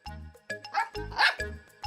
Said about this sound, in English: Snuffy barked happily